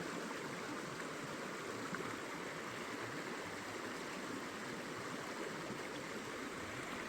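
Creek water flowing beside the bank where a teapot is being washed, a steady, broadband rushing and babbling that stays even and moderately close throughout, with no voices.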